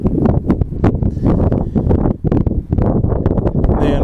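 Gusty wind buffets the microphone in uneven rumbling bursts, loud and close, with brief lulls between gusts.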